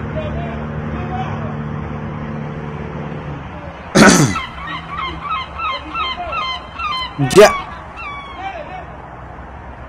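Loud, goose-like honks from a bird in a video game, a sharp blast followed by a run of repeated honks and another strong honk, heard over game background noise with people talking.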